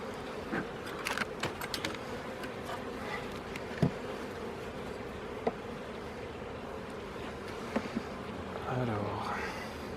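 Honey bees pour out of a freshly opened nucleus hive in spring, a close, steady buzzing hum with occasional sharp clicks and knocks of hive handling and faint voices in the background.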